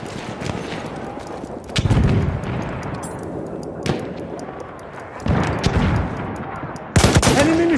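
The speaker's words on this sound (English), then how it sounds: "Enemy machine gun." Machine gun fire in a Battlefield 1 battle, heavy rapid bursts rattling near and far, with the loudest volleys around two, six and seven seconds over a constant wash of distant gunfire and battlefield noise.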